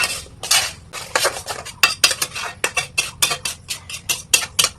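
Metal spoon scraping and clinking against a pan while semolina with bay leaves is stirred and roasted, a quick irregular run of sharp scrapes and taps, close and loud with no talking.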